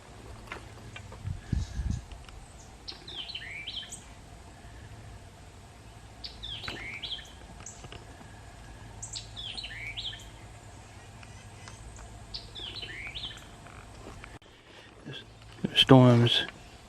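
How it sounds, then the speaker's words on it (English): Small birds sing on a wooded hiking trail in Henry Horton State Park, Tennessee, repeating bright descending trills at intervals over soft background hum, with a brief loud rustle near the end. "You hear the little birds?"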